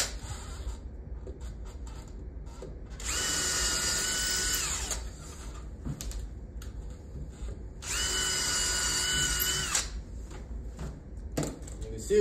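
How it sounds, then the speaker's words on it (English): Two sustained bursts of a power drill pre-drilling into 100-year-old wood, each a few seconds long, separated by quieter handling noise and faint background sounds. "we're gonna go ahead and pre-drill"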